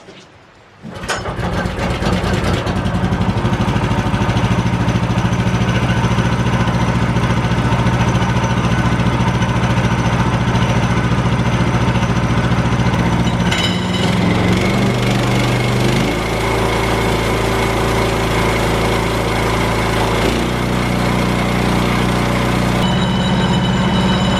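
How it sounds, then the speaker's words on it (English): A pull-started sawmill engine catches and runs steadily with a loud, continuous mechanical drone, its pitch shifting slightly as the revs change, heard alone without talk. "it seems that we got the engine on the mill running pretty well."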